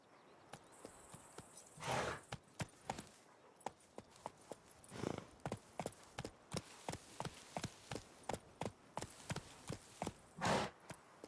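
Roach, a horse in The Witcher 3, clip-clops steadily on hard ground, with a few louder, heavier thuds. The hoofbeats are close and fairly faint, with no talk over them.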